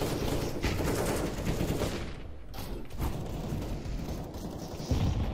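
Rapid gunfire bursts from a CS:GO match, steady volleys of automatic shots running continuously and close up with a sharper burst at the end.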